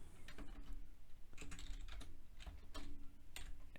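Keys clatter on a computer keyboard in quick, uneven bursts of close typing that run throughout, with no speech over them.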